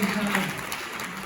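A fringe theatre audience applauds, a thick, steady patter of clapping under a brief spoken voice.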